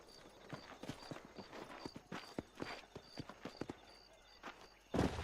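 Horse hooves clip-clop in steady, repeated beats from a herd outside Armadillo in Red Dead Redemption on Xbox 360, with a whinny bursting out loud near the end over soft outdoor ambience.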